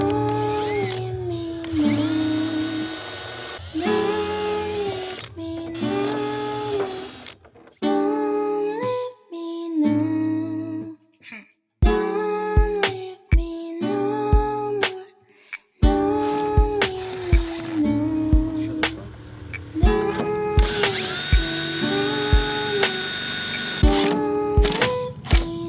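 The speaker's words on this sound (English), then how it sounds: "So what I've done is I've marked the holes where I'm gonna be drilling," Power drill boring holes to mount a widebody kit on a BRZ or E36 car, with repeated whining bursts that rise and stop, separated by short pauses and sharp clicks, loud and close.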